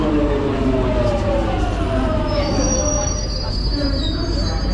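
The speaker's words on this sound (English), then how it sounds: "the tube train approaches, or the underground train approaches" A London Underground Jubilee line train rumbles in with high, drawn-out wheel squeals over a loud, steady roar, the screeching rising and bending as it slows.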